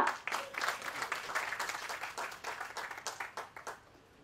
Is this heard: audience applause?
yes